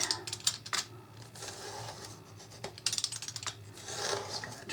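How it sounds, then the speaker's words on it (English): Knife or cutter slicing through a freshly glued piece of flooring in a farmhouse hallway, giving close, uneven scraping and rasping strokes in bursts, fairly quiet with no talking. "I know I just glued that, but I'm going to go ahead and cut it anyway."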